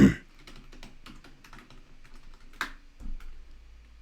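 Rapid keystrokes on a computer keyboard during a software session, a steady patter of close clicks with one sharper key strike near the end before a low hum takes over.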